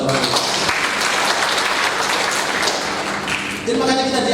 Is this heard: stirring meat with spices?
no